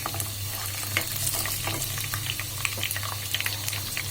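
Chopped whole garlic cloves hit browned onions frying in a pan, giving a close, steady sizzle with scattered crackles and stirring scrapes.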